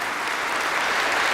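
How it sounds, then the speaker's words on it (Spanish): The congregation at the ordination and installation Mass of the new bishop of Teruel and Albarracín breaks into dense, steady applause, filling the church evenly throughout. "Este aplauso de toda la asamblea sirve a la vez de agradecimiento, de confianza, de felicitación"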